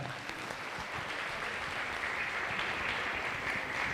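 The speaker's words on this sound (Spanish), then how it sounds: "un aplauso para ustedes de parte de nuestro equipo de trabajo" Applause from the audience at a municipal public accountability hearing in a town hall setting, a steady, fairly quiet and distant patter of many hands clapping without voices.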